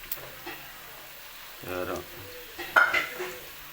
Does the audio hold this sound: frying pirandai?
yes